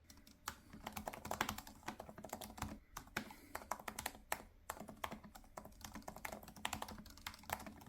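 Fast, steady typing on a computer keyboard, close and quiet, with irregular bursts of key clicks and brief pauses, no voices.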